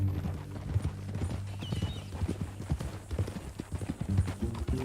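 Horse hooves clip-clop at a steady walking rhythm in the Western video game Red Dead Redemption 2, with moderately close, continuous steps under a low background.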